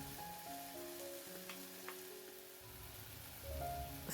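Tomatoes and crushed garlic hit hot oil in an Indian home kitchen, already frying with mustard seeds, onions, curry leaves and green chilies, giving a steady close sizzle with a light stir and no talking.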